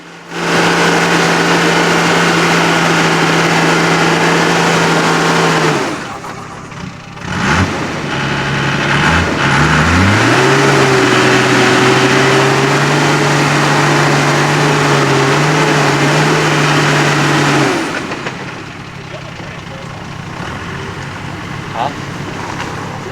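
An old off-road vehicle engine labours up a steep, slippery high-country track, a loud droning note that holds, dips as the driver changes throttle, then climbs and sustains before easing off.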